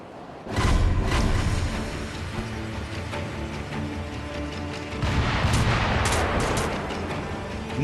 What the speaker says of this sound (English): wait for the firing to quiet down a bit here